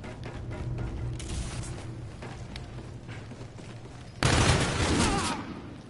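Gunfire in the Call of Duty video game, a dense fusillade rumbling throughout with a sharper, louder burst of shots near the end.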